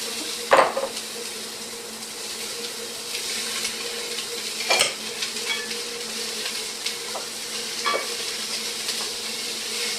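Broccoli frying in a pan while being stirred: a steady, moderate sizzle broken by a few sharp utensil clacks, with no voices.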